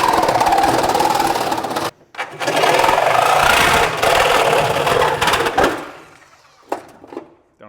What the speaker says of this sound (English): With a Sawzall!